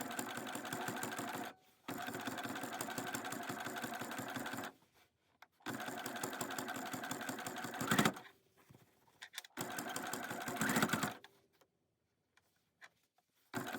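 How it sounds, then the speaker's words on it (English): Sewing machine top stitching a scrap-fabric patchwork pouch, running in several steady bursts of rapid needle clatter separated by short pauses, close and fairly loud with no talking. "So go ahead and top stitch right here and right along here."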